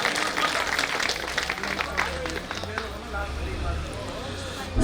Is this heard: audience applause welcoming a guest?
yes